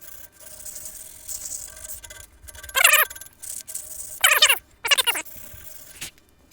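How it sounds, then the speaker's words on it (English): Edge of a wood lathe tool smoothed by hand with 120 grit sandpaper, giving several short, close scratchy rubbing strokes with quiet gaps between them and no talking. "I like to do it just with a little bit of 120 grit sandpaper."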